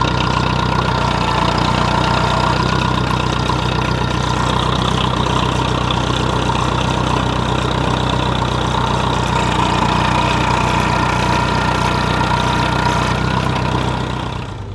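A diesel engine idles steadily after a cold start, a loud continuous low rumble with a knocking, clattering character that holds even for about fifteen seconds before easing slightly at the end.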